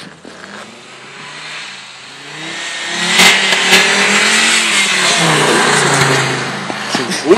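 An Audi 80 driving on a winter track in Tyrol, its engine building from a distant hum into a loud revving pass close by, with brief voices nearby.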